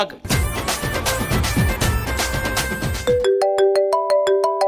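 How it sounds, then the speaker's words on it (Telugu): Music plays for a few seconds on a television dance show stage, then a phone ringtone takes over with bright, repeating electronic tones in a steady rhythm, loud and close. "ఏదో ఫోన్ వస్తుంది. ఎత్తు."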